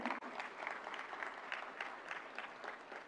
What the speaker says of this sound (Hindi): जम्मू कश्मीर के लिए जोरदार तालियां हो जाएं